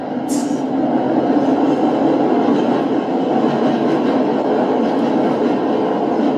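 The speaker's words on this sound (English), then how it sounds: "Hold on, this train going by." A train rolls past at close range, a loud, steady rumble of wheels on rail with faint clickety-clack running through it and a brief high squeal near the start.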